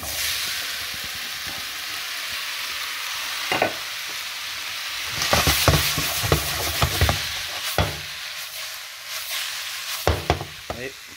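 Pork sauté sizzles in a hot pan with ginger, a steady frying hiss broken by scraping stirs and clattering utensil strokes that grow busier toward the end.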